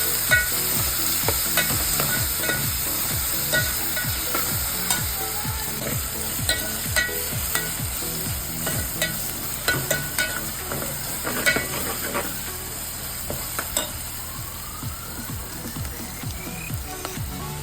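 Chopped onion sizzling and being stirred in a pan while frying for paya soup, a steady hiss with a regular scraping rhythm of the spoon, close and alone.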